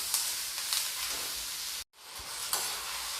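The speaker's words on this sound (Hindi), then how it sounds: "अब मैं इसको टमाटर के गलने तक पकाऊंगी" Tomatoes cooking in a pan, with a steady close sizzle and frying hiss and a few stirring scrapes, broken by a brief silent gap partway through.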